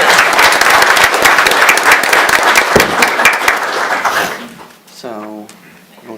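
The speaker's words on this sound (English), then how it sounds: "Okay, now we can clap." Loud, dense applause breaks out in a city commission meeting room after a proclamation, sustained clapping that fades out near the end before a nearby voice speaks.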